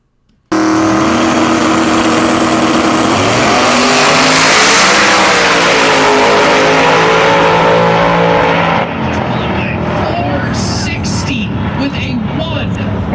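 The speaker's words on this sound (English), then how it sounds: "His build is a twin-turbo billet LS combination, and he was the #1 qualifier." Drag race cars, a twin-turbo billet LS Fox and a pro-charged small-block Chevy 1972 Nova, launch on an eighth-mile strip with a loud sustained roar that rises in pitch, then drops into distant engine noise and crowd sounds.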